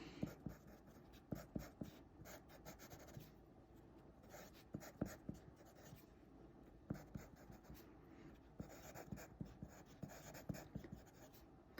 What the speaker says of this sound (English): notice I've got a pencil now. I am going to redraw this structure.